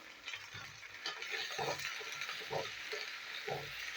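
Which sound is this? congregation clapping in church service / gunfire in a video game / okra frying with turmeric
okra frying with turmeric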